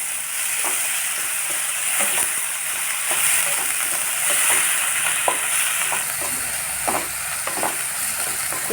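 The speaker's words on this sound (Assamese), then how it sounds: "পিঁয়াজখিনি ভাজা হৈ গ'ল।" Sliced onions frying with cumin seeds in a pan for potol posto, a steady close sizzle with light stirring clicks and scrapes throughout.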